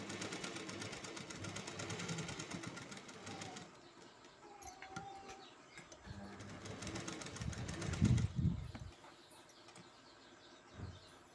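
A sewing machine stitches a collar piece with a soft, steady mechanical whir for the first few seconds. Quieter shuffling, handling noise and faint bird calls follow in the background.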